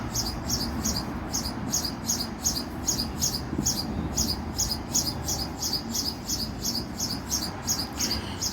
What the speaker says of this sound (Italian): Che bello il canto degli uccelli